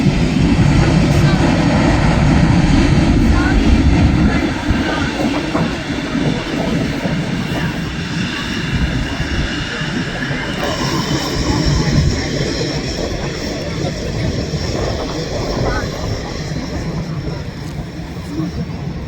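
A Saudi Boeing 787 Dreamliner taking off, its loud, steady jet engine roar dominating throughout with a broad rumble that eases slightly after a few seconds, heard from a distance outdoors.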